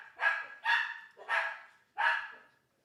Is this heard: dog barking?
yes